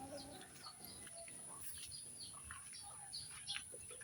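Young chicks peep in soft, high, scattered chirps before feeding, faint and close in a quiet backyard setting, with a few brighter peeps near the end.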